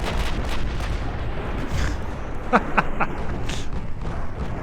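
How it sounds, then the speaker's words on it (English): Heavy 16-inch battleship guns fire in Ultimate Admiral Dreadnoughts: deep booms and a few sharp cracks land over a constant rumbling naval battle background. "That was a full hit, 16-inch guns."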